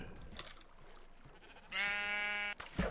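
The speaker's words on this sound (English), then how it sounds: "That guy's a light grey sheep." A sheep in Minecraft gives one clear, sustained bleat of about a second. It is fairly close and rises above a soft background hum, with a short noise just after.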